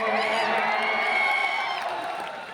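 A packed audience at an Imran Pratapgarhi nazm recital claps and cheers in a dense, continuous roar that holds steady and then eases slightly toward the end.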